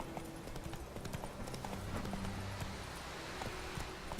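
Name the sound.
horse Roach trotting, clip-clop, in The Witcher 3 video game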